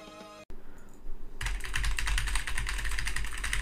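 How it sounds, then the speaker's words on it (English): Rapid, continuous clatter of keys being typed on a computer keyboard, close and fairly loud, starting after a brief quieter moment. "If you can hear someone typing with a Shure microphone, it's not correct."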